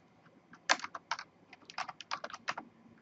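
Close, quick key clicks on a computer keyboard as a username is entered in capitals, arriving in short irregular bursts across three seconds with no talking.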